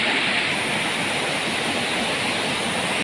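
A waterfall on the Kibunot river in Sabah, Malaysia, roaring as a steady, loud, dense rush of falling water with no break, close by.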